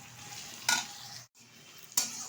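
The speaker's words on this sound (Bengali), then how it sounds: "পেঁয়াজটা কিন্তু লাল লাল করে ভাজা হয়ে গেছে" Onions fry and sizzle in a pan for lentil dal, a spoon stirring and scraping twice against the pot, close and crisp.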